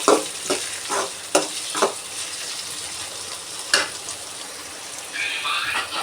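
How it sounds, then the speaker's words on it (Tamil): Brinjal curry being stirred and sautéed in oil in a pan, with a steady soft sizzle under repeated scraping strokes of a spoon against the pan, a few sharper clinks standing out, fairly close and moderate in level. "இப்போ இதையும் கொஞ்சம் நல்லா வந்து மிக்ஸ் பண்ணி விட்டுக்கோங்க இது இன்னும் கொஞ்சம் இது நல்லா வதங்கட்டும்"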